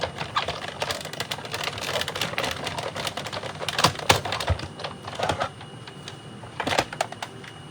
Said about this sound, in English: And run those through. We'll do all of our die cutting at once.